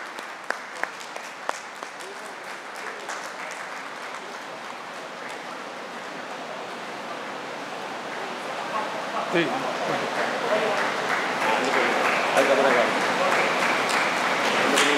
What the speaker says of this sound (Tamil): Please put your hands together for Suchitra.